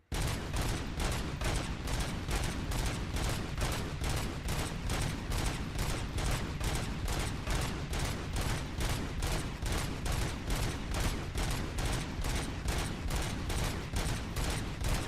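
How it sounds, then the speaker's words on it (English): An auto-firing gun in a video game shoots without pause, a loud, evenly spaced stream of rapid shots about twice a second that continues steadily for around fifteen seconds with no voices. "it's easy when you've got an auto-firing gun"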